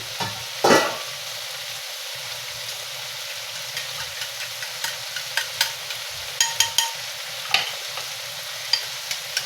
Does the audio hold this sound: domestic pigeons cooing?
no